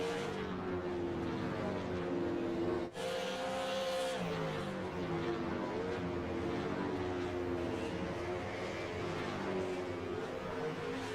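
Super late model race cars roar around Concord, engines droning loudly and continuously with pitch rising and falling as they pass, a brief dip near three seconds.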